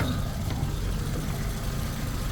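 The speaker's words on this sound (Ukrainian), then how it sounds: "Послухайте, як працює двигун." A 2008 Skoda Octavia 1.6 engine, running on LPG, idles with a steady, low, even rumble throughout, with no revving or knocking, close by.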